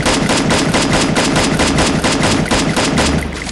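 Rapid gunfire in the Free Fire battle royale video game, loud and continuous bursts of automatic shots rattling throughout without pause.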